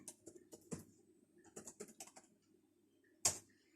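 A computer keyboard being typed on to enter a file name in a spreadsheet save box: a few quick clusters of soft key clicks with pauses between and one sharper tap near the end, quiet and close, no speech.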